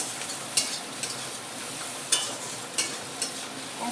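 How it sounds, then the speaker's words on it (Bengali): Egg frying in a pan for chowmein, a soft continuous sizzle broken by several sharp spatula taps and scrapes against the pan. "এবারে আমি ডিমটাকে দিয়ে ভালো করে ভেজে দিচ্ছি"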